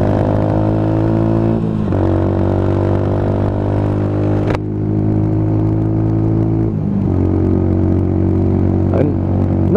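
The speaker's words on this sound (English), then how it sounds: "It's a lovely little exhaust from Lexmoto on this bike." A Lexmoto Tempest GT 125 motorcycle fitted with a Lexmoto exhaust accelerates loudly and close by in traffic, its buzzing engine note climbing, dropping briefly at gear changes, then climbing again.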